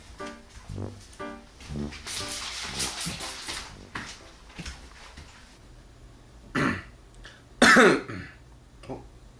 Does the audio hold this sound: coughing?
yes